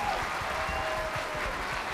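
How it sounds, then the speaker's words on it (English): Sustained audience applause at a school all-band concert, Salamanca Central School District music department, a dense steady wash of clapping from a full hall with no voices over it. "So how about a quick round of applause for these people?"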